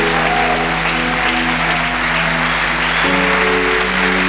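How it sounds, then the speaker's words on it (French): Audience applause at a French-language church gathering, a steady, loud, continuous wash of clapping filling the whole moment, with a sustained musical tone underneath and no talk over it. "Est-ce que des leaders influents se tiennent debout pour acclamer?"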